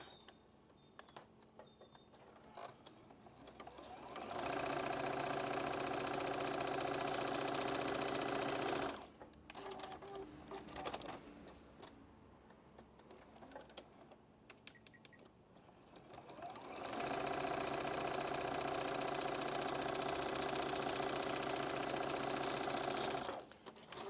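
A sewing machine stitches pinned quilt pieces for an Ohio Star block in two long steady runs of close, even mechanical whirring, separated by a quieter pause with light handling noises.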